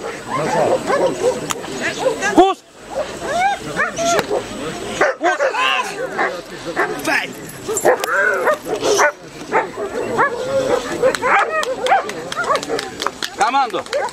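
Several dogs bark loudly and repeatedly outdoors, with yips and whimpers mixed in, while people shout and talk over the barking.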